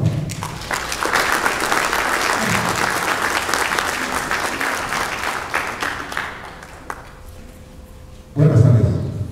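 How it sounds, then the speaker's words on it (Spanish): An audience applauds a speaker introduced at an academic talk, steady, full clapping that builds, holds, then thins and fades out before a voice begins to speak. "para quien pido un aplauso, por favor"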